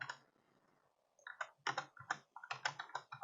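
Computer keyboard keys pressed while working in Photoshop, a quiet pause followed by a quick run of close, crisp key clicks in an uneven typing rhythm.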